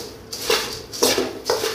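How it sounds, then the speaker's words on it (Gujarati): A spoon scrapes and clatters in a pan in a few distinct bursts as puffed rice chevdo is stirred after lemon juice is added, close and fairly loud. "આપણે હવે લીંબુ નાખીને હલાવી લેશું"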